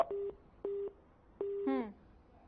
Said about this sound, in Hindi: आपका फोन लगता है कट गया है